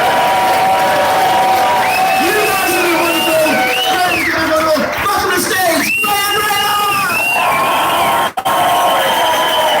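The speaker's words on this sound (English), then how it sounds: "Are we all ready to cheer together for our final act of the night?" A crowd at a comedy night cheers and applauds for the final act, a dense, loud wash of clapping with whoops and shouts rising over it. There is a brief dip near the end before the applause resumes.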